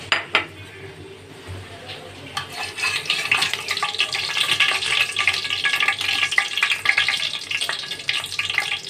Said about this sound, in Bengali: তার জন্য কড়াইতে দিয়ে দিলাম তেল,